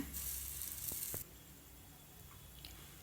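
Beaten egg poured over a chapati in a hot pan gives a bright, steady sizzle for about a second, then drops to a faint, quiet hiss with a few small ticks.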